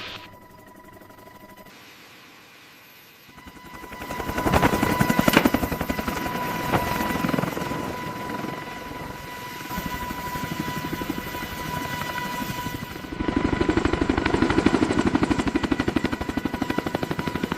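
CH-53K heavy-lift helicopter spooling up and lifting off, a low engine hum swelling into loud, rapid rotor thumping that pulses steadily and stays close throughout, with no voices over it.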